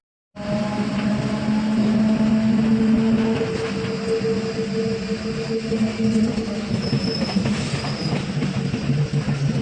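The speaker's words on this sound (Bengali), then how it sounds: "তো ফাইনালি আমরা ট্রেনে চেপে গেছি" Inside a moving passenger train, a loud continuous rumble of wheels on rails with rattling carriage noise and faint squeals, steady throughout after a brief start.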